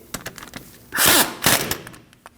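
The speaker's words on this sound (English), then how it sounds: "Install the axle nut. We can snug that down." Impact wrench or power tool briefly snugging down the axle nut on a 2009-2014 Ford F-150 front wheel hub, a loud rapid burst of hammering following a few lighter clicks and taps.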